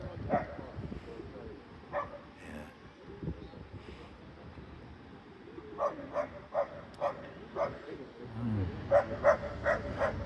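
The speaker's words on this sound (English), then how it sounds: "It's always the little dogs, isn't it?" Small dog barking outdoors beside the Shropshire Union Canal at Telfords Warehouse, a run of short, sharp yaps coming in bursts from moderate distance over wind noise and a low murmur of background voices.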